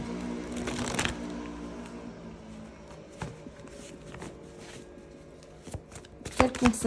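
Oracle angel cards are shuffled close by in quick rustling, flicking bursts, with brief pauses and a sharper riffle near the end, while a person speaks quietly beneath.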